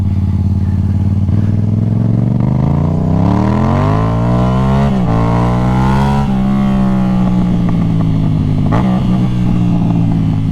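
A stunt motorcycle engine roars up close and loud for the whole stretch. Its pitch climbs in long revving sweeps with a few sharp shifts and drops while the bike is being ridden.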